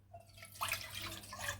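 Water poured from a cup into a cooking pan, a short splashing trickle that starts suddenly and keeps going briefly at moderate volume.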